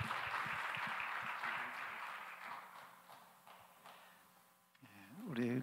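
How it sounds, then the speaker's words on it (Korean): A congregation at a Sunday youth worship service claps together, soft and somewhat distant, the applause thinning over a few seconds before a voice and tonal sounds take over at the end. "우리 박수로 서로의 삶을 응원하며 축복하겠습니다."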